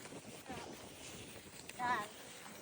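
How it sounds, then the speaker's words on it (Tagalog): Strong stormy wind buffets a microphone outdoors during a kite flight, producing a broad, rushing roar throughout, with a brief voice and a burst of louder gusting near the end. "Lakas ng hangin guys."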